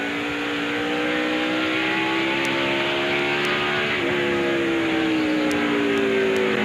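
A 2001 Chevy Monte Carlo stock car's V8 engine roars steadily at high revs, pitch rising and falling through the lap with a brief dip, loud and continuous with no voices over it.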